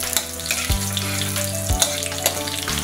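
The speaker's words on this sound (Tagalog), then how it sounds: "Mainit na yung mantika mga idol. Gisa na tayo ng bawang." Garlic sautéing in hot cooking oil, a loud continuous frying sizzle with a few low clunks from the pan, close up and with no talking.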